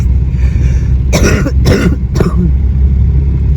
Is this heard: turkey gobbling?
no